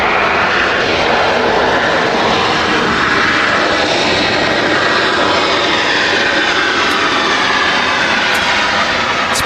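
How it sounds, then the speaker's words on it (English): Steady loud roar of a passenger jet landing on a dry runway at Manchester Airport, a continuous broadband engine rush sustained throughout with no voices. "It's probably the last time you'll see an aircraft landing on such a dry runway."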